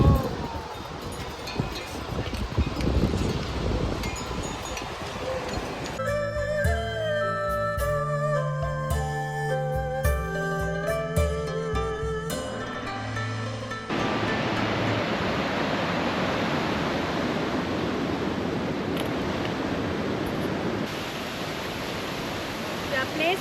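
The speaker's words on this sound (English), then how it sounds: "we are at the Tok Tok waterfall" The Tok Tok waterfall on the Everest Base Camp trek roars as a loud, steady wash of broadband rushing water, with a stretch in the middle where music plays over it, and wind buffeting the microphone at times.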